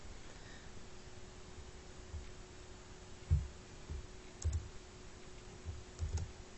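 A computer keyboard being typed on in a few soft, sparse clusters of key clicks over a quiet background hum.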